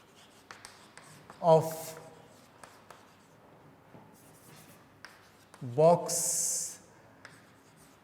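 Pen or chalk scratches faintly across a board during an algebra lesson on linear equations in two variables, under a teacher's speech.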